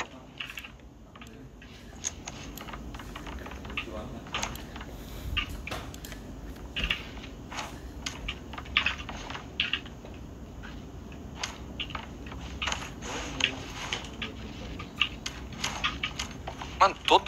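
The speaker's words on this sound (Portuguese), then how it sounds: "todo cara aleatório que eu caio é uma barulheira de teclado" A computer keyboard clatters with rapid, irregular key presses over PUBG game audio, the clicking sharp and close throughout, while a person talks underneath.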